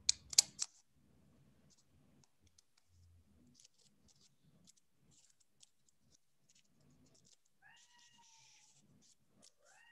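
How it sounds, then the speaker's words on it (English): A house cat meows a few times near the end, soft drawn-out calls over quiet crafting noise of paper handling, clicks and a brief thump at the start. "I don't know if you can hear my cat,"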